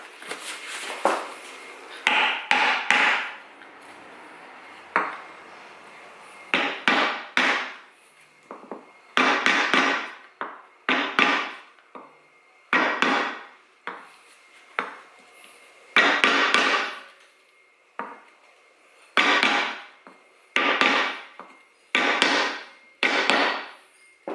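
Hammer strikes during a rear wheel bearing replacement on a Toyota Land Cruiser 80 Series, coming in close, loud clusters of sharp metallic blows with short pauses between bursts, and no talking.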